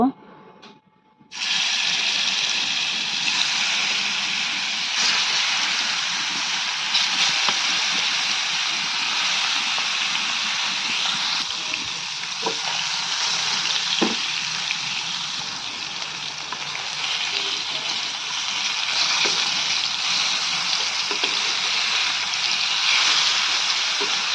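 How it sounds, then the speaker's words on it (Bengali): Silver carp fish frying in hot oil, a loud, sustained hissing sizzle that bursts in after a short quiet opening and then crackles steadily close by with a few small pops. "এজন্য আমি প্রথমে মাছটা ভেজে নেব।"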